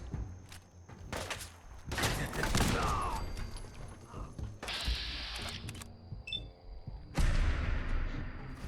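Gunfire in Fallout 4 during a long-range fight, several sharp sniper-weapon shots and thumps separated by pauses, with mechanical clicks and footsteps between them, loud and near.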